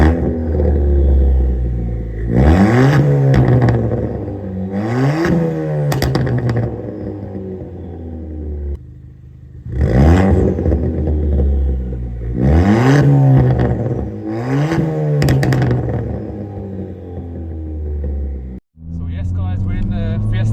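Stage 2 Ford Fiesta ST during an engine sound check, revved repeatedly in sharp bursts that climb and fall, with short pauses between them and a deep exhaust rumble.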